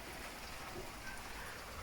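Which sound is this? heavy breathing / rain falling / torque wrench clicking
rain falling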